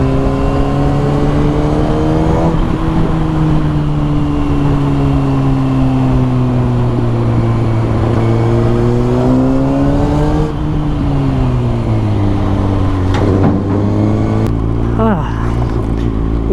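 A Kawasaki ZX-6R sport motorcycle's engine revs hard and close under acceleration, its whining pitch climbing and dropping repeatedly with each gear change over a constant roar.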